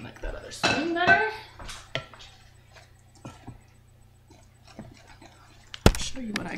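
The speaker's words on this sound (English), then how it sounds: "You're going to mix this evenly, quickly." A spoon clatters and scrapes against a bowl while quick bread batter for banana cranberry bread is mixed, with scattered knocks and a sharp clink near the end, set against a faint steady hum.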